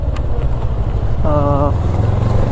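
A Yamaha R3 motorcycle engine climbing in revs in third gear, a loud steady drone with a brief higher tonal whine partway through, heard up close.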